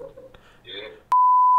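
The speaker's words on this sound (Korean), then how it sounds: "어, 전화 왔다." A phone rings for an incoming call: a steady electronic tone starts suddenly and loudly after a short stretch of quiet room sound, and it keeps going to the end.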